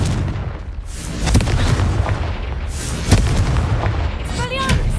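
Confringo blasting spell explosions in Hogwarts Legacy, several loud booms and bursts over a dense, continuous battle rumble, with a spoken spell call mixed in.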